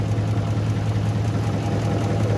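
A Lincoln 368 V8 idles steadily in a 1957 Mercury Montclair, a continuous low rumble with an even, unbroken drone from start to finish.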